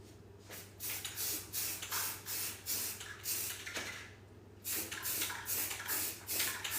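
Repeated bursts of hissing spray from a spray paint can running low, used on a dance studio mirror, about a dozen short sprays in an uneven rhythm over a low steady hum.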